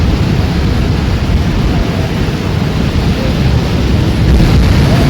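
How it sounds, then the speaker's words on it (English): Autumn waves crash on a coastline beside a beach promenade. A loud, continuous roar of surf runs throughout, mixed with heavy breeze buffeting the microphone. "And the waves crashing on the coastline, the very calming sound"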